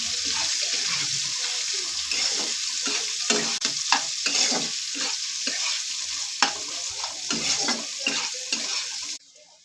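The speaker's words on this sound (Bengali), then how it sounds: "এতে আমি 3টে পেঁয়াজ দিয়েছি, কেটে রেখেছিলাম, দিয়ে দিচ্ছি।" Onions tipped into a pan of frying fish head for a greens curry with gime shak, hissing and sizzling steadily with scattered spoon-stir scrapes, close and continuous until it stops near the end.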